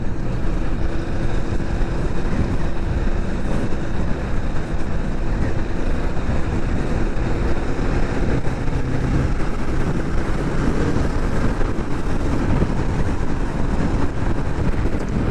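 A 2023 Kawasaki Vulcan S cruiser motorcycle under way, its engine drone steady beneath heavy, constant wind rush buffeting the microphone, loud and continuous with no speech.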